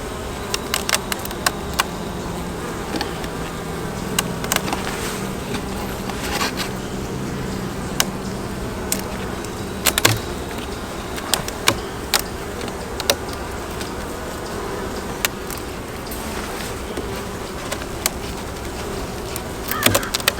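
Honey bees buzz steadily from an open brood box, a dense close hum running throughout with scattered clicks and knocks from hive handling.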